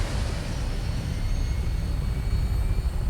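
An aircraft in Fallout 4 lifts off with a steady, loud engine roar and broadband rushing wind, sustained and close for the whole few seconds with no talking.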